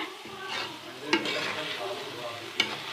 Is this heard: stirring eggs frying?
yes